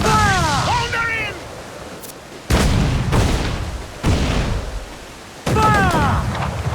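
Sailing-ship cannon fire in Assassin's Creed IV Black Flag: several heavy booming broadsides, loud and close, separated by short gaps, each blast followed by a long rumbling decay, with shouted crew voices between the shots.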